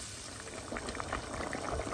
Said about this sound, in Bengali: তো এই পর্যায়ে আমি আবারও ঢেকে 10 মিনিটের মতো রান্না করব।